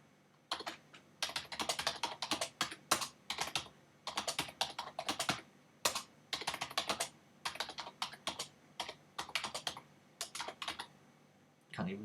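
A computer keyboard is typed on in steady bursts of rapid, crisp key clicks separated by short pauses, close and clear, with no talking.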